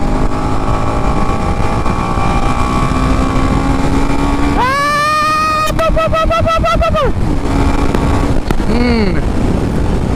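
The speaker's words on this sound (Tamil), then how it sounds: "அதனால தான் நம்ம வண்டி அவ்வளோ சவுண்டு." A TVS Apache RR310 motorcycle engine with a faulty camshaft runs steadily with a droning hum, then rising whining tones and a rapid ticking pulse come through midway, all close and loud.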